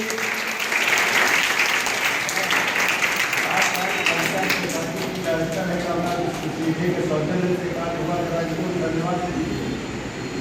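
An audience at a school cultural program claps in a dense, steady round of applause, loud and sustained, while a voice speaks over the clapping through much of it.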